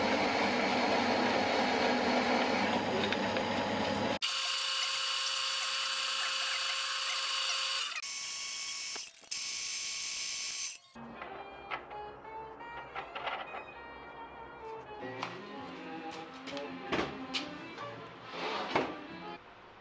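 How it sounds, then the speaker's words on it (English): A lathe machines a leftover piece of metal in a home workshop, with steady whirring and grinding, abrupt shifts in tone, then rattling clicks and scraping cuts in a close, busy series. "I'll use that, put it on the lathe,"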